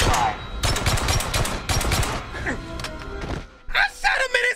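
Rapid gunfire in a video game, a loud close burst of thudding shots in the first half, followed by scattered impacts and a shouting voice near the end.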